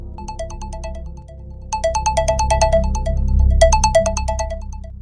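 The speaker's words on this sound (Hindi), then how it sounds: "मोबाइल की रिंग बजी।" A mobile phone ringtone plays a repeating bright electronic melody in bursts over a low steady hum, fairly loud and close.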